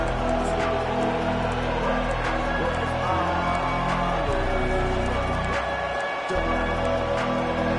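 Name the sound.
stadium crowd cheering in EA Sports College Football 25 video game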